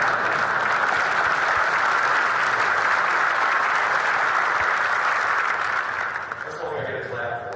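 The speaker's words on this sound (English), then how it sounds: "That's all I get a clap for." An audience at a Texas DPS trooper trainee graduation ceremony claps loudly and continuously for several seconds, a dense steady roar of hands that thins out near the end.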